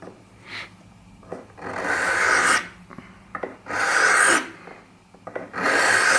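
Hand file working a pipe saddle stem at a 45-degree stroke: four long, rough rasping strokes separated by short pauses and light taps, close and steady, with no talking.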